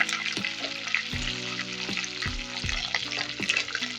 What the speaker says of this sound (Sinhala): රම්පි දාලා හොඳින් තෙම්පරාදු කරගන්නවා.